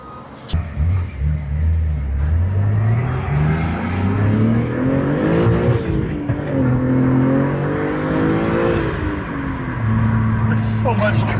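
A manual BMW M3 fitted with an aftermarket exhaust drives on a highway, its loud engine drone climbing in pitch through the revs, dropping at a shift, then rising again, heard close from inside the car.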